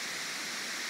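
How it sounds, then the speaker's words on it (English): Steady broadband roar of a big wall of water pouring down a waterfall at Chimney Rock, North Carolina, heard close and loud, continuous and unbroken with no voices over it. "Yeah, it's a big wall of water."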